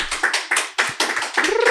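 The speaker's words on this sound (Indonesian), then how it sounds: "Tepuk tangan dulu dong." A small group claps their hands in quick, uneven bursts at close range, with a few sharp slaps and a brief voice near the end.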